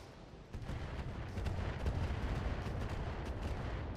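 A volley of missiles launches in the mech combat game BattleTech, a rapid run of crackling bursts and rumbling thumps that swells after a quieter start and keeps rolling at a fairly distant, moderate level.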